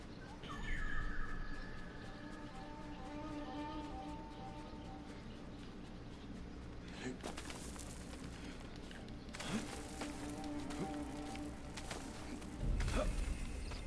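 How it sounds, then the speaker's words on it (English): A bird chirps in Ghost of Tsushima, with several short tweets and calls near the start and again later, moderately faint over steady ambient game noise. "Another bird."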